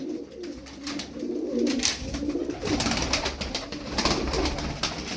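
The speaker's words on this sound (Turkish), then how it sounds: "Bu da seri, bu da oyunu bir kuş." A tumbler pigeon coos close by in repeated soft, throaty bursts over several seconds, with faint background noise and no voices.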